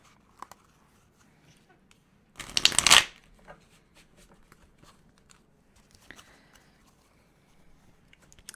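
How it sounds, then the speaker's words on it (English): A brief, crisp riffle of tarot cards being shuffled bursts out once in a mostly quiet space, with faint taps and rustles around it. "I'm just going to do a quick shuffle."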